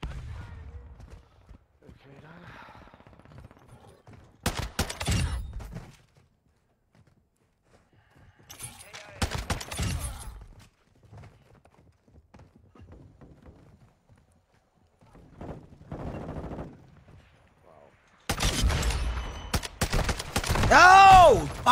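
In a first-person shooter video game, a gun fires in several separate bursts of rapid, cracking shots with quiet gaps between them, ending in a louder burst.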